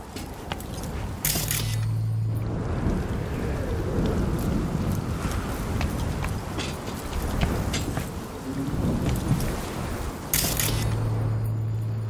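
Pouring rain and rumbling thunder from the video game Cyberpunk 2077 form a dense, continuous wash with deep booming swells. Brief bright bursts open and close the passage, and no one speaks.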